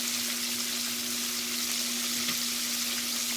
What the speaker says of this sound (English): but we deep frying